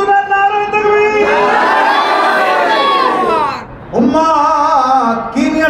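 A large crowd at a Bengali religious sermon gathering chants loudly in unison in response to the takbir call, a long sustained roar of many voices that dips briefly and then rises again close and strong.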